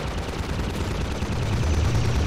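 Dense, continuous gunfire in the co-op Half-Life 2 mod Synergy, a loud, rapid barrage of overlapping shots with no pause.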